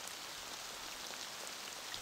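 Light rain falls in a virtual Mount Hood lakeside environment, a soft continuous hiss of fine drops, faint and even throughout, with no voices.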